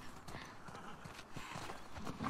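Hooves of a horse in The Last of Us Part II clip-clop in an irregular walking rhythm, close and fairly clear, with some faint voice or game sound underneath.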